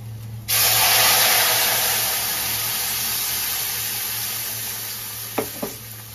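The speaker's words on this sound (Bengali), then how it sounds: "কড়াইটাকে একদম সেরকম করে তাতিয়ে নিয়ে তারপরে কিন্তু ফোড়নটা দিলাম" Spices tempering in hot oil in a well-heated wok, a loud sudden sizzle that bursts in and then hisses steadily, easing slightly, with a couple of faint clinks near the end and no talking.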